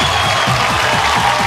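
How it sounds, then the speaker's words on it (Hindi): A studio audience at a Bhojpuri singing show claps and cheers in a dense, steady burst of applause that fills the short moment, with crowd noise mixed in. "जोरदार ताली के साथ स्वागत कर जाओ ऑडियंस के"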